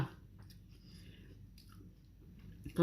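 Someone chews a mouthful of spicy squid larb with rice vermicelli noodles, with a soft, steady, close-up chewing and squishing sound that continues quietly throughout.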